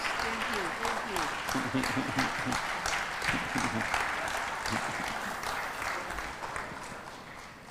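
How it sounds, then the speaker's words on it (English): Steady applause from a political rally crowd in Kenya fills the space, sustained clapping that slowly tapers off while a voice speaks briefly over it. "Let's give a warm clap for that."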